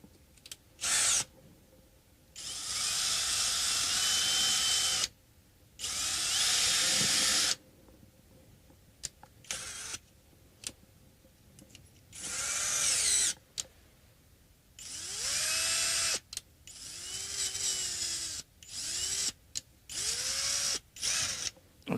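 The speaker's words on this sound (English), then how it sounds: "And I think we need to countersink it a little bit." A power drill countersinks a hole while flipping a Hondo 779 3/4 model: loud whirring bursts of a few seconds each, separated by pauses, then a run of shorter stop-start spurts close to the mic.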